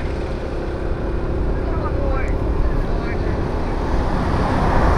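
A motorcycle rides along a road, its steady engine drone and wind rush holding constant throughout while people chat over it.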